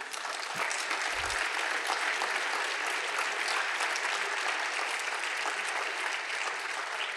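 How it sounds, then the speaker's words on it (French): A conference audience at Forum PHP 2022 claps in steady, sustained applause filling the room, with a brief low thump near the start. "vous pouvez aussi vous applaudir parce que c'est mérité"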